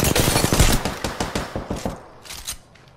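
Rapid gunfire in a video game shooter, a fast string of loud close shots that thin out into a few spaced bursts and fade.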